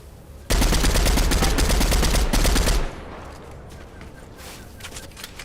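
Rapid automatic gunfire from a video game, a loud sustained burst of shots lasting a couple of seconds, then cutting off into quieter game ambience with faint scattered sounds.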